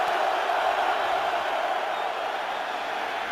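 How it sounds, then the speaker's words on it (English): A football stadium crowd at a Falcons–Seahawks game roars in a sustained, loud wash of cheering and shouting with no breaks. "And the crowd gets loud in a hurry"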